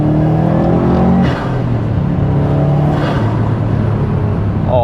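A JDM bugeye Subaru Impreza STI Ltd fitted with an HKS air filter, accelerating hard. The engine drones loud and close, with a rising, throaty pitch that stays steady throughout.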